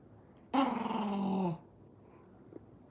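An old dog gives one close, rough growl aimed at another old dog, lasting about a second before the room falls quiet again apart from a faint tick.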